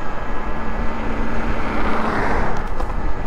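Talaria Sting electric dirt bike running at full throttle in limp mode, with a steady whirring motor drone and rushing wind that swells slightly toward the end, no talk heard.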